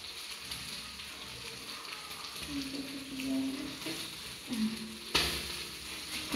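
Salsa poured into a hot pan with chicken sizzles and fries as it is stirred, a steady crackling hiss with occasional scraping, under a voice talking.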